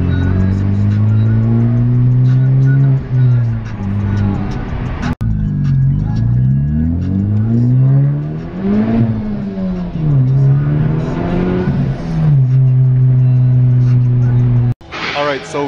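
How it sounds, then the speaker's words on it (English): A Honda Civic Type R accelerating on a test drive, engine pitch climbing and dropping through several gear changes with a sharp break midway, loud and steady from inside or near the car. "So a little test drive in the Type R just to make sure the wheels and tires are mounted good."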